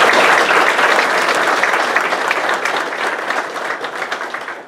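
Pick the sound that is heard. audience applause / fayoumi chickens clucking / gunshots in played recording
audience applause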